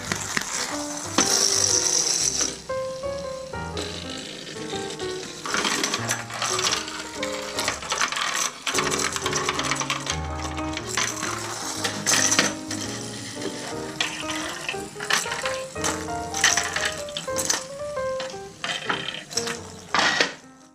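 A vintage 1960s–70s toy mechanism runs across a table with rapid ratcheting, clicking gear noise. It is close and fairly loud, with irregular bursts and short pauses.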